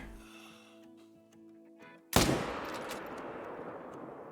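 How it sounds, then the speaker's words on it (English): A single loud, close rifle shot from a .300 Magnum in the hunting game Call of the Wild cracks out after a quiet stretch of ambient tones, then rolls away in a long fading echo. "We have the 300 Magnum, so we'll be going for that shot."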